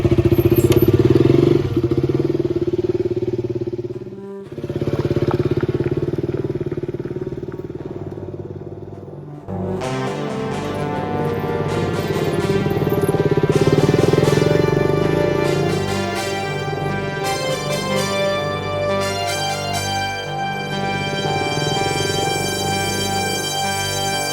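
A motorcycle runs with a steady engine drone and rattle. A brief dip is followed by a busier stretch of revving and clattering, heard close and fairly loud throughout.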